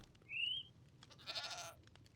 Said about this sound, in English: Are you stuck here, you little goat?